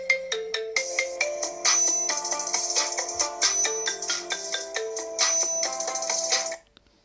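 A song set as an iPhone ringtone plays as a melodic tune with a steady beat for about six and a half seconds, loud and close, then cuts off abruptly.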